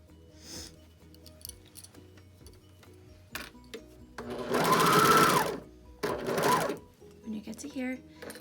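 A sewing machine stitches a knit fabric pocket in two loud, steady runs of about two and one seconds, with lighter clicks and handling of the fabric before and after.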